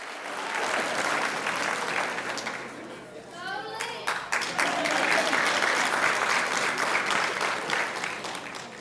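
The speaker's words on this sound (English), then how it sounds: "we can give them a round of applause" Sustained applause from an audience at a Teacher of the Year ceremony honoring an elementary school nominee, dipping briefly while a voice calls out before the clapping swells back up loud and full.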